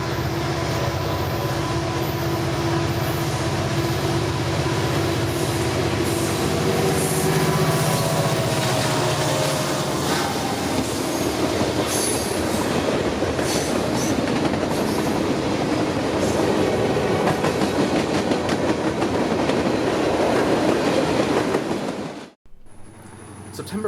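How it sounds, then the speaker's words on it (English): A Norfolk Southern freight train rumbles past close by, led by SD60 and SD70ACU diesel locomotives droning, wheels clattering over the rails, a long loud pass that cuts off abruptly. "I caught NS Train 15N with a rare SD60 standard cab, leading the way with an SD70 ACU"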